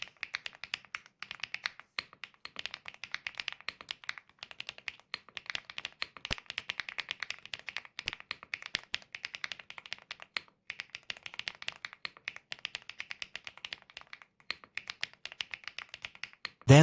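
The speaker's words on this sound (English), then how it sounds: "let's listen to the typing sound under the full equipment of the FR4 positioning version" Rapid, crisp keystrokes on a mechanical keyboard fitted with an FR4 plate, clacking steadily and close up with no voices, the rhythm irregular like ordinary typing.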